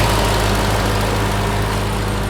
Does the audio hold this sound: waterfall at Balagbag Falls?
no